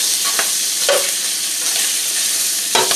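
Smoked sausage browning in about a tablespoon and a half of canola oil for jambalaya, a loud continuous close sizzle with a few brief scraping stirs of a utensil, no voices.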